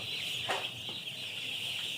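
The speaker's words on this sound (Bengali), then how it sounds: "এখানে চোদ্দোশো ব্রয়লার মুরগির বাচ্চা আছে" About fourteen hundred young broiler chicks chirp constantly in a high, steady chorus, with a few louder peeps standing out.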